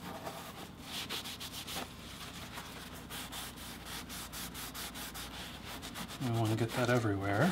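Vegetable-tanned leather playing card case being sanded by hand gives rapid, soft rhythmic scratching strokes, fairly quiet and close, with a brief tonal squeak or voice near the end.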